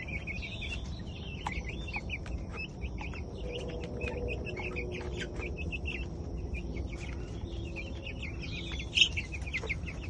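Chickens in a coop clucking and chirping steadily over a low background rumble, with a slightly louder squawk near the end and no talking.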